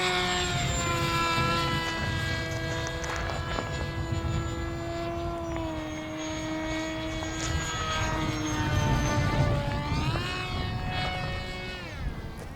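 An Immersion RC Blade Manta flying wing flies overhead, its electric motor and propeller giving a loud, steady buzzing whine that rises and falls in pitch as the throttle and speed change.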